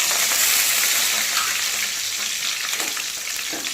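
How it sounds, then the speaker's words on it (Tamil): Small shallots and curry leaves fry in hot coconut oil with a continuous, close, hissing sizzle and faint crackles, cooked for a green gram curry. "இதை நல்லா வதக்கிக்கலாங்க"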